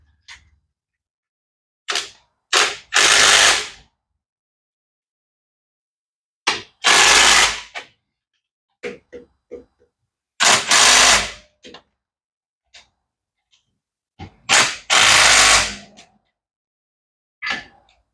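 A torque wrench tightens bolts on the front swivel housing of a 1989 Nissan Patrol GQ TD42 during a front diff rebuild, giving several separate bursts of ratcheting, metallic clicking with quiet pauses between them and no talk.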